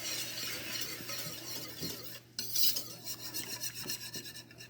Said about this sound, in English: just let me get my vanilla open here